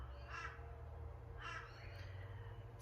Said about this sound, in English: Thank you, my beautiful crows.